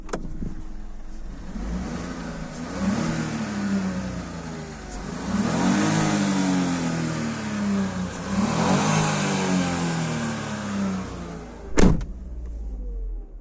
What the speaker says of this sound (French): On va écouter l'échappement.